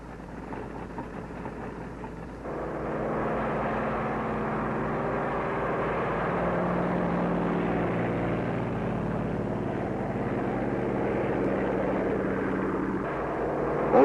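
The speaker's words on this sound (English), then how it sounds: "Also taking off from the carrier are control planes that will guide the radio-controlled drone boats" Carrier-launched control planes take off from an aircraft carrier deck, their propeller engines swelling into a steady, loud drone after a quieter opening, holding strong before easing slightly near the end.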